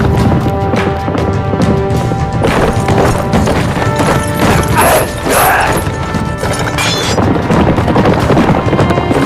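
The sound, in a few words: horse galloping in a chase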